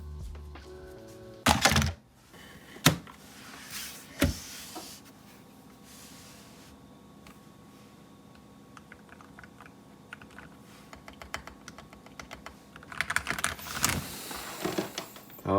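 Typing on a modded Feker IK75 mechanical keyboard, a fast patter of soft, deep keystrokes running steadily for most of the stretch, with a few louder thumps early on and busier bursts toward the end.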